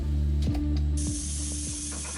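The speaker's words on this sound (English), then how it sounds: "Meanwhile, back on the rotating table, the next engine is being tested." A Mercedes-Benz truck engine runs on a rotating factory test rig, a steady, loud low drone with repeated mechanical clicks and a hiss that starts partway through.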